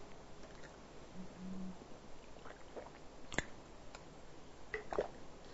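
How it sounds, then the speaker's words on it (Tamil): A teacher taking a drink of water in a classroom, with soft wet gulping and swallowing sounds and small clicks over a steady low background hiss. "கொஞ்சம் தண்ணி குடிச்சிடுறேன்ப்பா"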